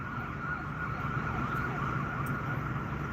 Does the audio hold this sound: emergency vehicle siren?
yes